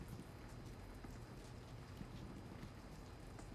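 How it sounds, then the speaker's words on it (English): Rain pours during a rainstorm in Houston, Texas, a dense, continuous wash of drops with faint low rumbling underneath and no talking. "and then it started raining the other way"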